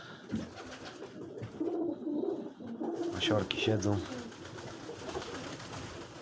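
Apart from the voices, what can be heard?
pigeons cooing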